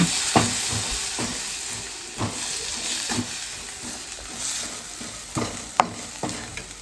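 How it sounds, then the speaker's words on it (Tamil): Onion, tomato, ginger and garlic fry in oil while being stirred, a continuous loud sizzle broken by repeated rhythmic scraping strokes of a spoon against the pan. "கட் பண்ணி வச்சிருக்க வெங்காயம், தக்காளி, இஞ்சி, பூண்டு எல்லாத்தையும் போட்டுக்கோங்க ஒரு எண்ணெயில. உங்களால முடிஞ்ச அளவு கிண்டி விட்டுக்கோங்க."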